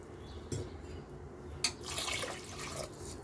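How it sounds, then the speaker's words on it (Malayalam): Water is poured into a pan of masala for pudina rice, a gentle splash and continuous pour following a couple of light knocks, close and quiet, with no talk. "ഇതിലേക്ക് നമുക്ക് വെള്ളം ഒഴിക്കാം."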